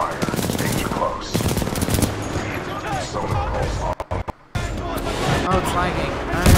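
Sustained automatic gunfire from supporting fire in Titanfall 2, loud and dense rapid bursts with a brief dropout midway, overlaid with game voice and action noise.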